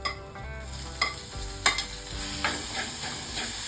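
Ginger garlic paste frying in a pan for a pearl spot fish roast, with a steady oily sizzle and repeated scraping stirs of a spoon, close and fairly quiet, with no talk.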